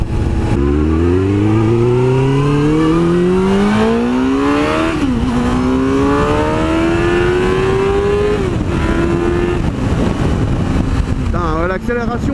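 A Suzuki GSX-R 600 sport bike accelerates hard through several gears, its engine climbing in rising whines between shifts, loud and close with strong wind rush from the rider's position.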